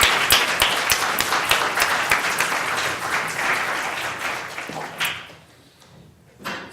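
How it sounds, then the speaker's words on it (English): A room full of people applauds for members of an environmental law journal at a law school event, steady dense clapping that fades out toward the end, followed by a brief final burst. "if we could just give them a round of applause"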